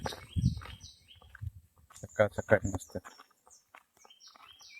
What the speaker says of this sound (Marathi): चिमण्यांचा किळबिळ बघा ऐका